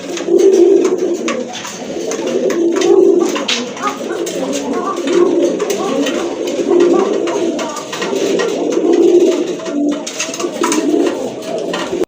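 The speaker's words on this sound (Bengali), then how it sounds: "এক জোড়া গড়রা কবুতর" Pigeons, a pair of Gorra-type birds, coo in soft repeated rolling phrases, several birds calling close by with a steady murmur between coos.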